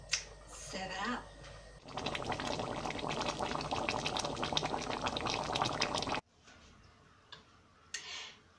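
Butter chickpea curry simmering in a pan: a steady bubbling, ticking crackle that holds for several seconds and then cuts off sharply, with quiet background sound and a voice talking around it.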